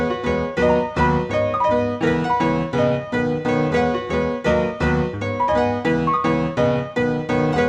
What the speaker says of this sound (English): I've strummed all the notes now and added in the melodies, and it sounds like this.